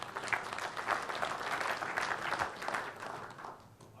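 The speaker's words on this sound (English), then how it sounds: "Please, a round of applause for this gentleman" Audience applause at a Tech·Ed North America 2011 conference session on Microsoft Lync Server 2010, a steady, moderately distant round of clapping that gradually fades toward the end.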